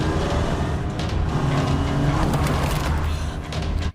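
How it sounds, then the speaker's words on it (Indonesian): A car in a zombie film scene speeds up through a forest road to run down a figure in its path, a loud, dense engine roar with rumble and impact-like noise that cuts off abruptly. "Kemudian Allison pun tancap gas dan menabrak zombie itu"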